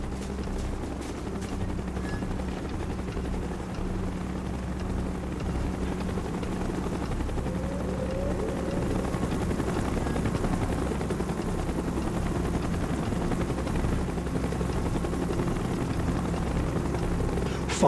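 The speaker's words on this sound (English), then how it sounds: "Chopper's inbound! Move it!" A helicopter approaches in the Call of Duty Black Ops video game, its rotor drone steady and fairly loud for the whole stretch, with faint rumbling battle noise around it.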